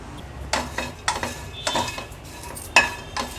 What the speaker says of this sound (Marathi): आता पॅनमध्ये आपण हे दगडफूल जायपत्री मायपत्री ॲड करूया